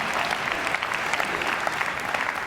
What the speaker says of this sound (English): give Ryan a big round of applause